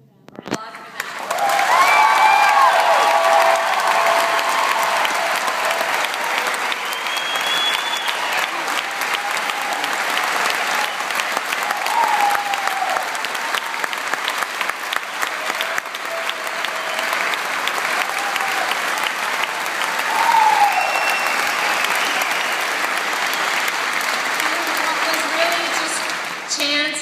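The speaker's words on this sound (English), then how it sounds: "Applaud for them." Sustained applause from a large audience at a film screening in Detroit, dense steady clapping with some cheering mixed in, swelling early and again near the end, with voices faintly underneath.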